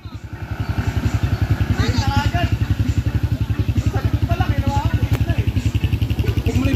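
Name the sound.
motorcycle engine nearby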